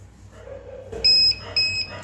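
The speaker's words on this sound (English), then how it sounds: "the tag and pocket module both are alarming us using this LED and this buzzer" An onboard buzzer on a DIY UWB anti-theft bag tracker (Reyax RYUW122 tag and pocket module) sounds two sharp, loud electronic beeps, set off when the distance passes 200 cm.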